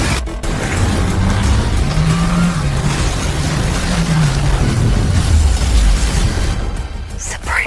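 A car accelerates hard, its loud engine note climbing and sweeping upward in pitch over several seconds before cutting off abruptly.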